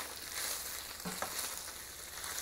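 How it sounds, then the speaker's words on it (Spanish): Beef steak browning in a hot pan with consommé seasoning, a steady low sizzle with a few soft scrapes or stirs near the middle, constant and fairly quiet throughout with no talk. "se oye que se está dorando"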